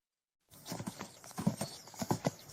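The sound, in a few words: horse hooves and neigh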